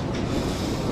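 A train rumbles along in a trucking simulator game, a dense continuous roar of rolling wheels and engine with no pauses.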